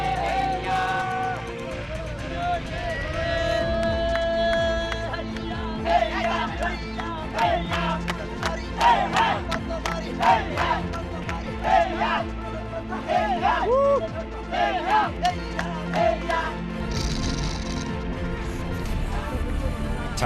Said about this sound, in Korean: 육체적 고통과 지루함을 달래기 위한 구령과 함성이 더 커집니다